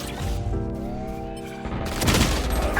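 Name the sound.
grenade explosion in a video game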